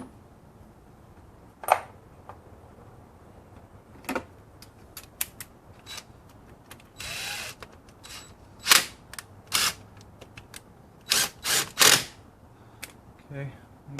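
Sharp, scattered metallic clicks and snaps ring out close by as a T30 fastener is torqued down on a BMW E90/E92/E60 oil filter housing, with quiet gaps between bursts.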